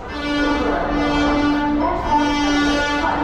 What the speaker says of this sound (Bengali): তো ফাইনালি বর্ধমান থেকে কিন্তু আমাদের ট্রেন ছেড়ে দিল।